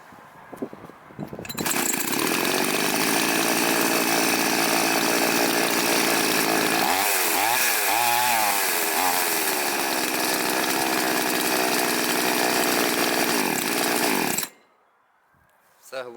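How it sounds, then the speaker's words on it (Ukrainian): A Chinese petrol chainsaw engine starts and runs loud and steady at high revs, with a brief dip in the middle, then cuts off abruptly near the end. "Зараз я покажу, як правильно налаштувати китайську бензопилку."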